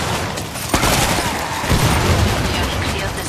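Heavy, sustained gunfire and explosions from the video game Killing Floor 2 fill the whole stretch, loud and dense, with a strong boom near the start and chaotic overlapping shots throughout.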